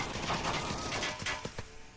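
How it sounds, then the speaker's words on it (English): Gunfire in a shooter video game, a dense rapid rattle of shots with a few sharper cracks toward the end, under a commentator's voice. "Lots of gunfire."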